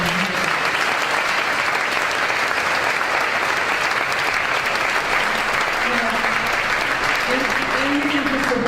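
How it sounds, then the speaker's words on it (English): A sustained round of applause from an evening awards-event audience fills the room, dense and steady clapping throughout, with faint voices and a few cheers mixed in toward the end. "Another round of applause for everyone."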